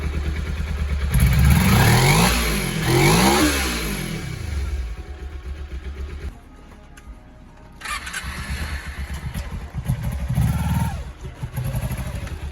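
A 2008 Kawasaki Ninja 250 with a cheap aftermarket exhaust idles, then revs up several times in quick bursts, drops to a quieter idle, and revs again, close by.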